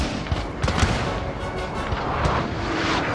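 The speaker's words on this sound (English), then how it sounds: "Between artillery and musket volleys" Dense battlefield din of artillery booms and crackling musket volleys from a Napoleon Total War Darthmod battle, continuous and loud with repeated sharp blasts layered over a rumbling roar.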